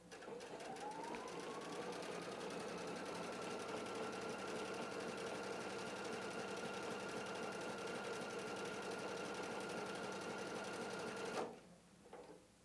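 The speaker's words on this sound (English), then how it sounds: "start the machine with the start-stop button" A Husqvarna Viking Designer Epic 3 sewing machine stitches fabric with a steady, even whir that holds close and loud for about eleven seconds, then stops abruptly, leaving a quiet room.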